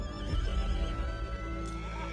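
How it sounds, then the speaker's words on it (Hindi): A mare lets out a pained, drawn-out whinny, loud and close, its shaky neigh filling the moment alone without any voices. "ठाकुर को एक घोड़ी की दर्द भरी आवाज सुनाई दी।"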